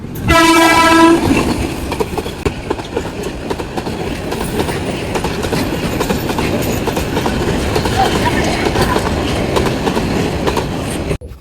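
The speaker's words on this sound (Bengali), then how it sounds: "দুপুর বেলা ট্রেন আসতেছে এখন ট্রেনটাও দেখা ভালো হয়েছে যে জায়গা মতো ট্রেনটা আসছে" A train near Purbadhala, Netrokona, in flooded country, sounds a loud sustained horn up close, then rumbles past with steady heavy wheel clatter for the rest of the clip.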